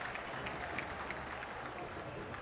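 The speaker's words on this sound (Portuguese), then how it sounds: "Arranca lá o aplauso do torcedor." Stadium crowd applauding during a Brazilian league football match between Flamengo and Náutico, a steady dense wash of clapping and crowd noise filling the whole stretch at moderate level.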